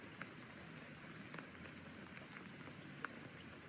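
Soft, steady patter of rain falling outdoors in a garden on a rainy day, faint and continuous, with a few slightly sharper drips and no talking.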